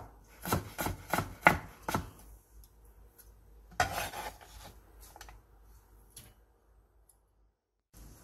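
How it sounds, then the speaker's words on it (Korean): A knife julienning carrots on a cutting board, giving a fast run of crisp, evenly spaced chops, then a short burst of rapid cuts and a few scattered taps before falling quiet. "당근 3분의 2개를 얇게 채 썰어주세요"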